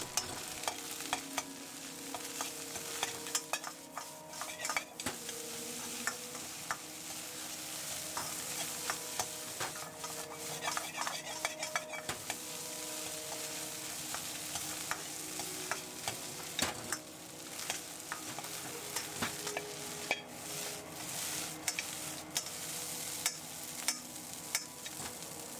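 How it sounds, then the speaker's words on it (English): Chopped green onion is stir-fried with fried rice in a pan, a steady close sizzle broken by repeated scraping and tossing strokes of a spatula for the whole stretch, with no speech. "add the chopped green onion and stir fry for a short time until fragrant"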